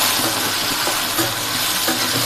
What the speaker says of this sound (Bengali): পেঁয়াজটা ভাজা ভাজা হয়ে আসলে এখন দিয়ে দেব লটকে শুকিয়েগুলো যেটা আর একটু কালার করে ভেজে নিতে হয়